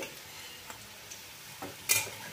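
Gima leaf fritters frying gently in oil over a low flame, a soft steady sizzle with a brief louder scrape and spatter near the end as a fritter is turned over.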